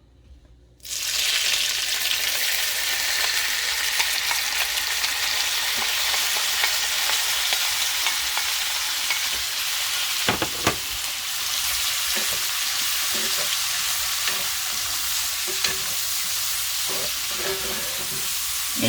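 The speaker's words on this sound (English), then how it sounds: "We're gonna add our onions, celery, and peppers." Onions, celery and peppers hit a hot pan for dirty rice and sizzle loudly and steadily, with brief stirring scrapes and clatters partway through and no talking.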